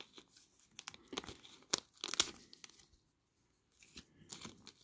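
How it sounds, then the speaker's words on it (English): Close, quiet snips and crinkles of scissors cutting open a plastic bag holding a hex driver set, several irregular cuts with a short pause. "I like using scissors to open up the bags."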